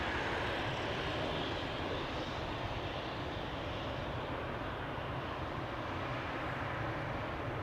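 Embraer airliner at Amsterdam Schiphol Airport, a steady broadband engine roar held at even loudness throughout, heard from a distance with no voices.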